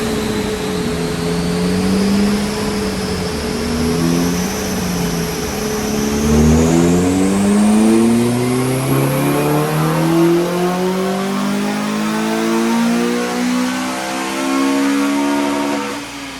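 A Honda Civic FN2 Type R with a race ROM is revved on Ecutek tuning while it is data-logged. The engine note climbs steadily and smoothly through the revs, with a thin high whine riding above it, loud and close, with no voices.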